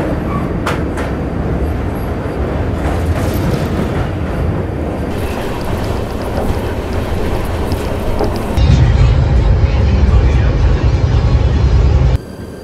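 Double decker train rumbling across an iron bridge over the Ganga, a steady loud roar of wheels and wind that grows heavier partway through before cutting off.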